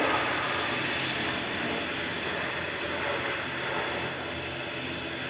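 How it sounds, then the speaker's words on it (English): A Cathay Pacific A350-1000 with Rolls-Royce Trent engines landing at Manchester Airport, heard as a steady, moderately distant jet rumble and hiss that eases off gradually. "Cathay Pacific showing off its Rolls-Royce Trents there."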